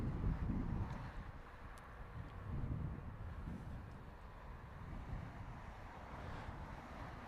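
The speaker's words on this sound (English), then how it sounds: "there we have evidence of the gusts of wind" Steady wind buffeting the microphone at Heathrow Airport, low rumbling gusts that swell and ease, with a faint distant engine hum.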